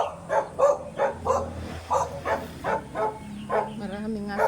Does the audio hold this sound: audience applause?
no